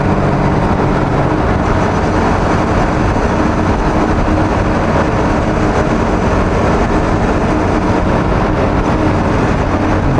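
A motorcycle rides through the MCE undersea tunnel in Singapore, a steady loud broadband roar of engine and wind echoing off the tunnel walls that continues unbroken throughout.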